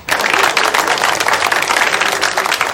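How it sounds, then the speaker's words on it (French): A gathered audience applauds a speaker after an evening session in a drama scene, dense continuous clapping starting abruptly and staying loud and even throughout. "Nous devons applaudir le capitaine Galsworthy."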